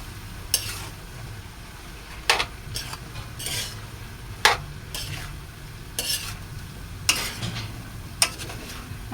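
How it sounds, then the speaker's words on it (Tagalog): Chayote sautéed with glass noodles being stirred in a pan, with scraping spoon strokes at irregular intervals over a soft steady sizzle, close and moderately loud, with no talking. "Tapos, haluin na natin."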